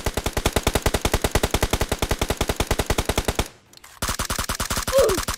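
An MG3 machine gun in the PUBG Mobile video game fires long, rapid full-auto bursts, loud and close, with a short break before a second burst.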